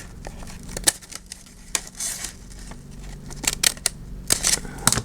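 Scissors cut open a brown grocery paper bag in a series of short, crisp snips with papery rustling between them, uneven in rhythm and close to the mic.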